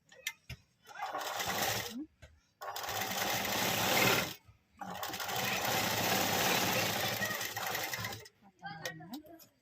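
A sewing machine stitches dori embroidery in bursts of steady whirring, stopping briefly between runs, close and fairly quiet, with a voice heard faintly at moments.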